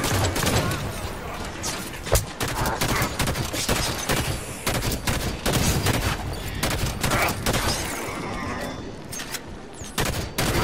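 Gunfire in the shooter game Halo 5: Guardians, with rapid pistol shots cracking in dense bursts and overlapping gameplay effects filling the space, loud and near with no talking.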